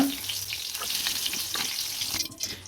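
Onions sauté in hot frying oil, giving a continuous crackling sizzle, and a few stirring scrapes and a faint splash of water are heard nearby.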